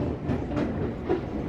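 Commuter train rolling slowly around a tight, century-old curve near Manggarai station, with a low steady rumble and a few soft wheel clicks and squeals under it, heard from nearby.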